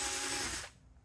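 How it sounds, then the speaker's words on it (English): A power drill whirs loudly at steady speed for most of a second while drilling a hole in a fake pumpkin, then cuts off, leaving a low background hum. "Let's go ahead and watch me drill this hole"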